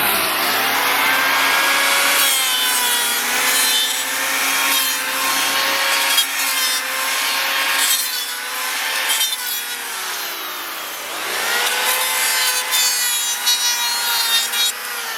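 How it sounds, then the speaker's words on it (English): DeWalt electric planer running across a 2x6 wood board, a loud sustained high-pitched whine and cutting roar that sags and recovers in two passes, alone with no talk. "The last step here is I just quickly take my planer, make sure I'm plugged in"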